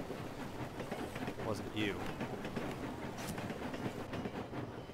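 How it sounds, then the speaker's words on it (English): A train rolls along in the Western multiplayer game Fistful of Frags, a steady rumbling clatter running throughout beneath players chatting over voice. "are you running up to the train right now?"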